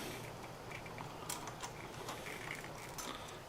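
Handlebar clamp bolts are tightened on a Honda Grom, faint close clicks and ratcheting ticks scattered over a quiet background.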